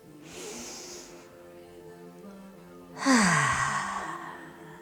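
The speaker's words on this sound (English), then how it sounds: "Breathing in through the nose, out through the mouth." A slow breath drawn in through the nose and let out through the mouth during a calm yoga class, two soft airy exhalations with a quiet pause between, close and unhurried with no talk.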